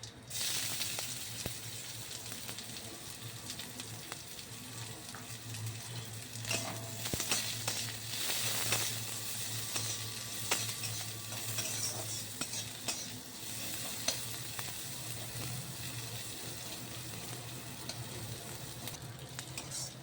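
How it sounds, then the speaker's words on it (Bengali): Chopped onions frying in oil with whole chilies and five-spice tempering for a gime greens dish give a steady, loud sizzle throughout, with stirring and occasional utensil scrapes and no talk. "পেঁয়াজটা আমি একটু লাল লাল করে ভেজে নিয়েছি।"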